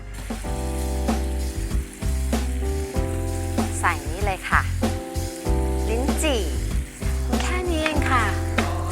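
Duck breast sizzles and spatters in a frying pan. The crackle is partly masked by prominent background music, and a voice speaks intermittently over it.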